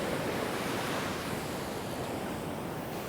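Surf on an Illawarra beach breaks in the shore break as a continuous broad wash of water, steady and fairly soft, with some wind and no talk.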